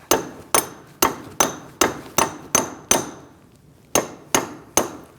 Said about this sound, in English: we're going to use a punch to get it past that rust, and we're going to hammer it out